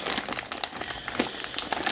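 A plastic snack package of Samyang spicy chicken rice cake snacks is crinkled and pulled open by hand, giving a continuous close crackling and rustling with small sharp pops, with no talking.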